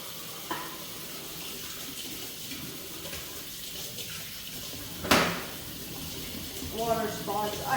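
Steady running water from a kitchen sink faucet while washing dishes fills the whole stretch, with a brief louder splash or clatter midway and some dish clinks near the end.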